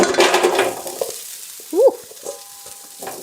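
French fries in an air fryer basket give a brief crackling sizzle and rattle as the basket opens, then quieter clinks and faint hiss, with a short exclamation from a voice.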